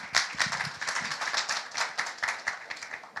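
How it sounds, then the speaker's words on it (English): A forum audience claps at the opening of TOD Forum 2024, a brisk, fairly light round of applause with individual hand claps audible, no voices over it. "Can I get big round of applause before we start today's event?"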